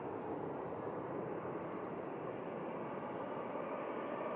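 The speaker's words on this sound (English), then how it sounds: "And there's TUI touching down." A TUI passenger airliner touches down at Manchester Airport, heard as a faint, steady distant jet rumble and roar that holds evenly for a few seconds with no voices.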